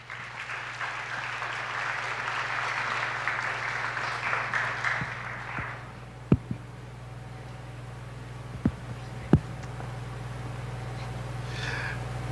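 An audience claps steadily in a large hall at an elementary school graduation ceremony as officials come to the stage. The applause is broad and sustained, then fades into a quiet room hum broken by a few sharp isolated knocks.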